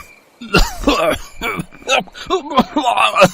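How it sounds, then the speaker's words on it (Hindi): Several harsh coughs in quick succession, close and loud, mixed with throat clearing and strained vocal sounds. "दोनों चोर तेज तेज खांसने और छींकने लगते हैं।"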